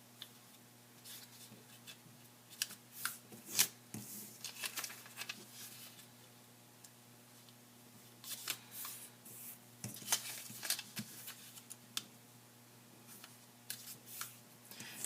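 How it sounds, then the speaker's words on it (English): Origami paper being folded and creased by hand, soft scattered rustles and crisp crackles coming in irregular bursts, close and fairly quiet with no talking. "you just take each of these corners and you fold into the center"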